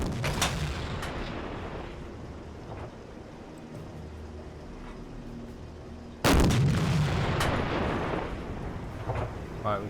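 Heavy booms from a submarine deck gun shelling an enemy ship in the naval game Silent Hunter 4 (Wolves of the Pacific, USS Perch), with repeated loud blasts and rumbling impacts and a sharp, louder burst near the end.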